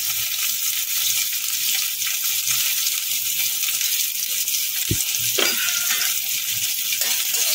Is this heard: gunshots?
no